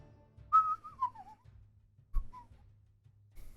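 A person whistles to imitate a mysterious whistle in the foliage, a clear sliding tone that falls in pitch, followed by a shorter fainter whistle, alone and close.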